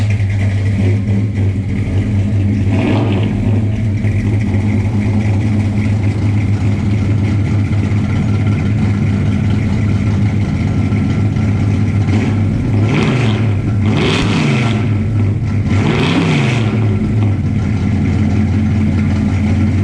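A custom-built 1970 Ford Torino with a loud exhaust idles with a deep, steady rumble, then is revved hard twice near the end, each rev rising and falling sharply close by.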